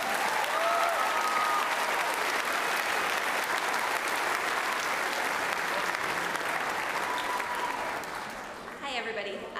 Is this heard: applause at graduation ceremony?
yes